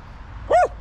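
A single short, sharp bark from a dog standing guard by a man found lying in a roadside ditch in a forest, close and loud over a quiet outdoor background.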